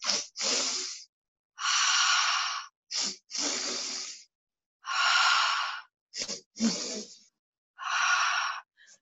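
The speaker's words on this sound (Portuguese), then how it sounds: "há uma técnica que é a respiração do fogo, nós temos que inspirar 2 vezes pelo nariz e soltamos pela boca" A person does breath-of-fire breathing: two quick nasal inhales followed by a mouth exhale. The cycle repeats as loud, close, breathy bursts with silent gaps between them.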